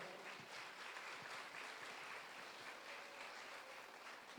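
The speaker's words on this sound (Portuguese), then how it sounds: "Então uma salva de palmas para o Senhor." A church congregation applauding at an evening fatherhood seminar service, a soft, steady, distant-sounding patter of clapping that holds evenly throughout.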